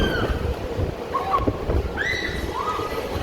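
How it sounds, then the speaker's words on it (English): Steady, strong wind roars and buffets the microphone on the deck of the cruise ship Mariner of the Seas, with faint distant bird chirps over the rushing noise. "It's super windy out right now."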